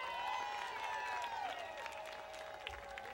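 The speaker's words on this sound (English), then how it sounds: "let's have a really big round of applause for the policemen that are out here keeping us safe today" An outdoor crowd applauds the policemen at a public gathering, a steady wash of clapping and a few cheers that swells, then eases slightly over a few seconds, with a faint tonal whine running underneath.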